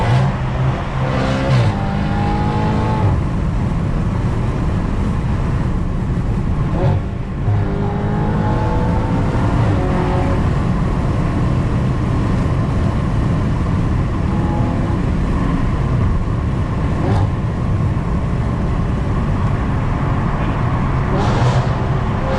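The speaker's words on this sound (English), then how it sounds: "Rev limiter. Right here, right?" Audi RS5 with a 4.2L V8, driven at night, revving repeatedly up toward the rev limiter; loud close engine rising and falling in several pulls, with a voice briefly present.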